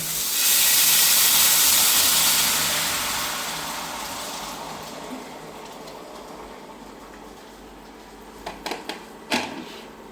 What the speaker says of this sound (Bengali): এখন আমি জলটা উতরাইতে আছে